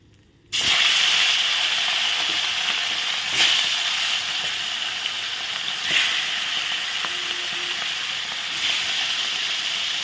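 Pieces of katla fish fry in hot oil, a loud close sizzle that bursts in suddenly after a brief quiet and then hisses on continuously with a few small surges.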